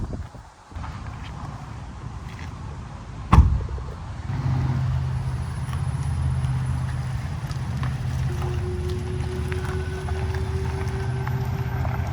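A Tesla Cybertruck rolls into a home garage: a low, steady motor and tyre hum with one sharp thump partway through, then a constant droning tone. Nobody speaks.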